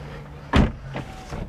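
A McLaren 570S door opens with a single solid mechanical thunk, close and fairly loud, followed by softer clicks and faint motor hum.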